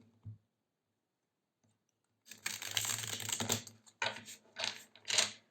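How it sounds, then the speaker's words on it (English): Tarot cards shuffled by hand: after a quiet start with a soft tap or two, a close burst of rapid riffling and flicking, then several shorter clattering flurries, with no talk. "I need to shuffle once more."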